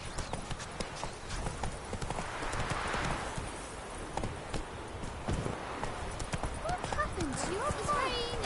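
The horse Roach's hooves clip-clopping in the video game The Witcher 3, a steady rhythmic trot close up. A brief neigh comes near the end, and a voice talks over it.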